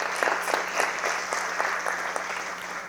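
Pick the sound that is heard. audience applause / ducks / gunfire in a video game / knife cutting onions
audience applause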